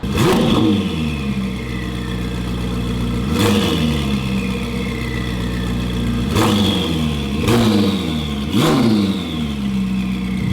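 A loud Ferrari SF90 with an aftermarket Ryft exhaust revs repeatedly, five sharp bursts that spike and fall back to a rumbling idle, close up with no talking.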